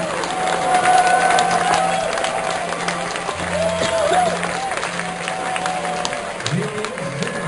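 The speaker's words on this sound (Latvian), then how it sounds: "Jūsu aplausi un galvinas, viņi ir veikuši." An audience claps and cheers at a university graduation ceremony, a steady wash of applause running beneath a speaker's voice.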